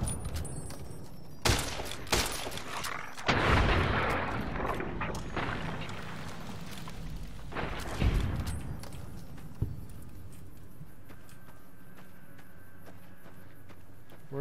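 Gunfire in Fallout: New Vegas aimed at an enemy's torso: several sharp, loud shots spaced irregularly, each followed by a rumbling decay, then quieter game ambience.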